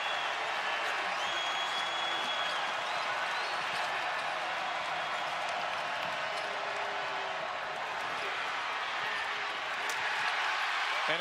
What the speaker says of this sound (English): A deficit and a delirious crowd stand in LSU's way.